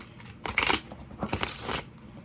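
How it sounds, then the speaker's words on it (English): A deck of tarot cards is riffle shuffled up close, giving two crisp, fluttering bursts of paper rattling, a short pause between them, with no talking. "I'm going to shuffle for a sec while I talk more."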